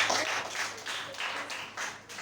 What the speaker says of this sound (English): Clap for them again.